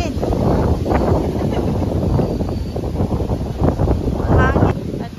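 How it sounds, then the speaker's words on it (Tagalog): Gusty wind buffets the microphone at an outdoor buyers' market in Lutucan, Sariaya, in a continuous low roar, with faint voices and a brief higher call breaking through near the end. "Hangin."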